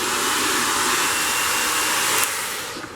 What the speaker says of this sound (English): I'm going to start heating it with a hairdryer